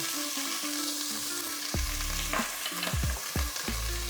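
Diced bacon dropped into hot olive oil and frying, a loud continuous sizzle with several brief clatters and scrapes of stirring toward the end, no talking.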